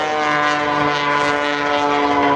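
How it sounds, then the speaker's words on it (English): An MX2 aerobatic airplane's engine runs at full power during an air show, a loud, steady droning propeller whine held throughout with no voices. "he hangs that airplane on all its power"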